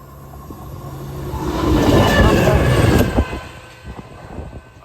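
A train rumbles past Hett Mill level crossing on a main line, building from a steady roar to a loud close pass around midpoint, then easing away with some rattles; no talking.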